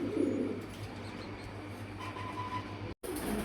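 Soft, low cooing of fancy pigeons murmurs close by, a repeated throaty call over a faint background hum.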